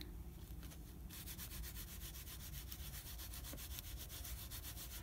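A crayon rubbed through a stencil in a journal produces close, quiet, rhythmic scratchy strokes, faster after the first second, with no voices.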